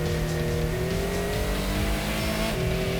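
A Nissan Pulsar race car engine in Gran Turismo, a light car of about 90 horsepower, drones and revs steadily and loudly throughout, with rising and falling gear pitch and faint tire squeal underneath, no talk.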